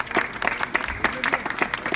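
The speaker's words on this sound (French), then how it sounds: "Je propose qu'on applaudisse encore une fois les élèves." Scattered clapping for students from a small group, irregular and fairly close, with a voice talking over it.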